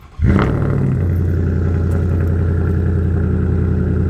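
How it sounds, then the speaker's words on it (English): A Ford truck's V8 engine catches and settles straight into a loud, steady, close-up rumbling idle that carries on evenly to the end, with no talking. "let's just hear the good old V8 motor"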